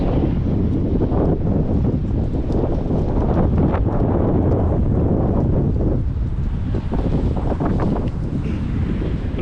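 Steady, loud wind buffeting the microphone during a midday e-bike ride while doing food delivery, a constant low roaring rush with gusty swells and no voices.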